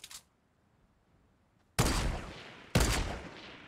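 Gunfire in a shooter game: two loud, sharp bursts of shots about a second apart after a quiet stretch, each with a short ringing tail.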